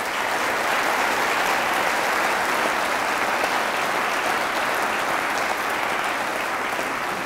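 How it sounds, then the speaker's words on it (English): A large audience at a university's annual address breaks into sustained, steady applause, a full dense wash of clapping that holds at an even level throughout. "I think that this team and Professor Weber deserve a round of applause"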